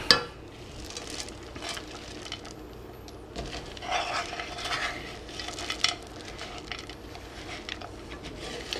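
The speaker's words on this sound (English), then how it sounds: "And we mix that up." Dark chocolate chips being stirred into iron skillet cookie dough, a soft scraping and stirring with a few light clinks of utensil against bowl, fairly quiet and steady with no voices.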